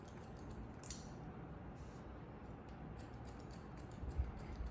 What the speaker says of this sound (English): Best sound of those scissors.